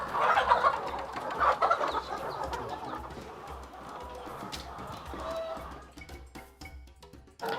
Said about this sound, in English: These are the local, the indigenous birds.